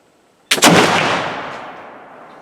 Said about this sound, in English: So now we try shot number 3.